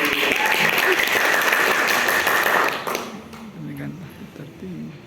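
Applause from an audience at a school quiz competition final, steady dense clapping for nearly three seconds before tapering off as a voice begins speaking.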